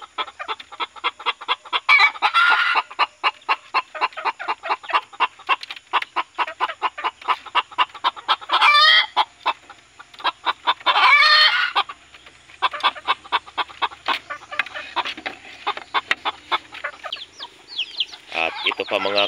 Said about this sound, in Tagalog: Ganda ng tilaok ng talisayin ito.